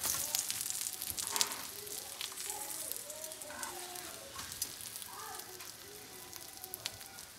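An aloo paratha fries in oil in a pan, giving a close, steady sizzle with crackling pops throughout, while a voice speaks quietly over it.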